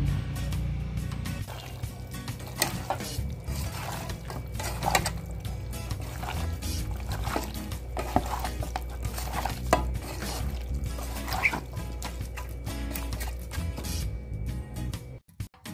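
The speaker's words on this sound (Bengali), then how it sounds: "বাসন মেজে নিই" Dishes being washed by hand under running water at home: a steady stream of water with clinks and scrapes of pots and utensils continuing throughout, then cutting off at the end.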